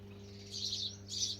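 Sparrows chirping near a riverside shrine along the Narmada, two short bursts of high twittering over a steady low electrical hum, fairly close.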